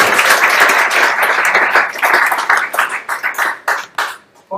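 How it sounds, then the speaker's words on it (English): Loud applause from an audience at a talk on digital art practice, dense at first and then breaking into scattered individual claps that fade out near the end. "if you'd like to give him a round of applause"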